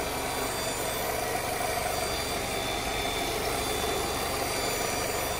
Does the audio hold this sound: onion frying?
no